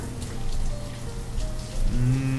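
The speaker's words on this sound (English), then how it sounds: "also it's raining, so it's a bit hard to see correctly" Rain in the Banished city-building PC game, a steady dense patter of drops on surfaces with a low rumbling bed beneath, continuous and fairly loud with no talking.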